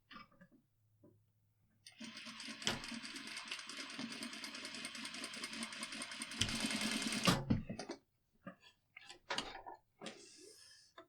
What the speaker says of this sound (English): is stitch about 1/4 inch above that stitch that I did on the placket right there.